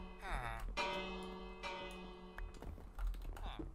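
A video game bell rings repeatedly at a survival base under attack by raiders, sharp metallic strikes with ringing decay recurring every second or so, while someone talks over it.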